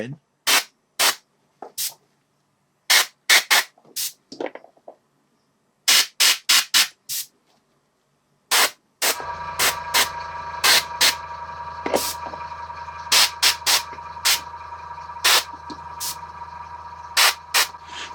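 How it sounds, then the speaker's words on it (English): An airbrush spraying paint onto a miniature to blend shadow: a steady, close compressed-air hiss with a faint motor hum runs through the second half, preceded and punctuated by sharp, rapid clicking bursts. "I'm going to spray more shadow on this side"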